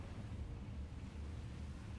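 A ship sinks beneath the waves in the submarine game Silent Hunter 4, giving a steady, deep rumbling wash like surging water and wind that holds unbroken for the whole stretch, with no talk over it.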